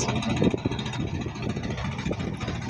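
Small boat fitted with two engines running steadily at sea, a continuous mid-pitched motor drone with rumbling low end, close and fairly loud throughout.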